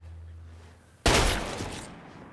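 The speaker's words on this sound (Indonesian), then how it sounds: "Ken melepaskan tembakan ke tubuh Sakata" Gunfire in an action film about a retired assassin taking revenge on gangsters: after a low steady hum, one sudden loud close blast bursts in and its rumbling echo fades slowly for over a second, with no talk.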